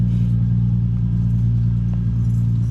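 A Chevy L78 396 big-block V8 runs steadily close by, giving a deep, continuous rumbling idle with an even, throbbing pulse and no speech.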